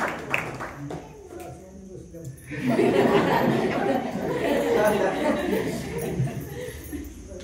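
An audience at a Jain temple gathering for the Dashalakshan festival breaks into sustained clapping mixed with chatter and some laughter, after a moment of quieter murmuring.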